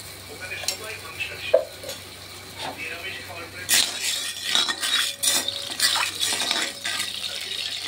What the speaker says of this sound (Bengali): আমি আজকে মহাপ্রভুর জন্য নিম বেগুন বানাচ্ছি, তার জন্য বেগুনগুলিকে একটু ভেজে নিচ্ছি।